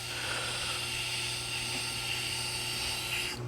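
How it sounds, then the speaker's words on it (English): A stone grater dressing the surface of a sharpening grindstone, giving a continuous, loud, even grinding whir with a steady hum underneath and no talk. "This is called the stone grater, and with this, we're actually going to polish the surface of the grindstone."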